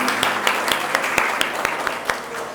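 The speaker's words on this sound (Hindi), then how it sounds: "तालियां हो जाएं" Crowd applause at a school prize distribution ceremony, a steady wash of many hands clapping with sharper individual claps standing out, under a faint murmur of voices.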